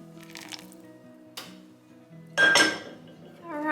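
Kitchen clinks and clatter of a pan and utensils, then a louder splashy pour of boiling turmeric stock over couscous and raisins in a bowl, close up with no talking.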